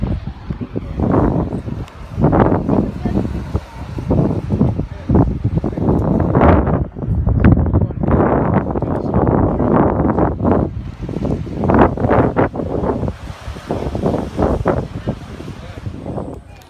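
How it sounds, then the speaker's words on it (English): Strong gusts of wind on a Cape Town beach buffet the microphone in heavy, uneven roaring bursts, with surf-like rushing underneath and a voice partly buried in the noise. "Excuse the wind, it's a little windy out here."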